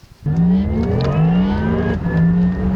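A Porsche Taycan Turbo electric car pulling out onto the road, a loud close rising whine with tonal motor harmonics that dips briefly and climbs again.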